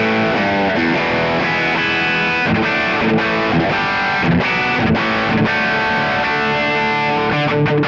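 Distorted electric guitar through a Mars MB68 Plexi 50 amp model plays chords and riffs with a crunchy tone, loud and full, with a delay trailing behind the notes.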